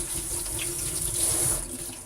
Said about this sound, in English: And now I always rinse my noodles with water.